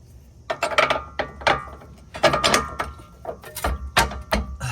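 A ratchet wrench tightens a bolt while a ReadyLift 3.5 SST lift kit is fitted to a 2019 Ford F250, making bursts of rapid clicking in uneven strokes with short pauses between them, close and fairly loud.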